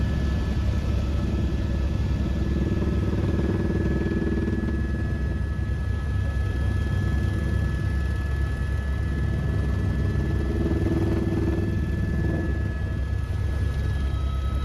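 Helicopter coming in to land on a forested Himalayan site in Nepal around 10,000 feet, heard as a loud, continuous engine and rotor rumble with a steady high whine, holding strong throughout without fading.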